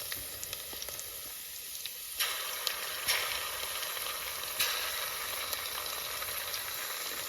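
Curry leaves and ginger-garlic paste crackle and sizzle in hot oil in a frying pan while a spicy crab curry is prepared. The steady hiss is joined by a few sharp pops and clinks as the ingredients go in and the frying grows louder.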